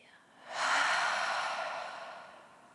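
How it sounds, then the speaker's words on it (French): A single forceful exhale through the mouth during a yoga breathing exercise, a soft breathy rush that starts abruptly and fades over about two seconds. "par la bouche, vous expirez pour 3 fois"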